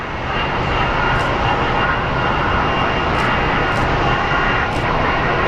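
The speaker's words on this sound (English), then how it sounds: "Imua is moving. They're pushing it back south to the Southwest gates for its scheduled flight to Fort Lauderdale." Hawaiian Airlines aircraft Imua being pushed back toward the gates at Phoenix Sky Harbor, its engines giving a loud, steady broadband roar with a faint high whine throughout, no voices.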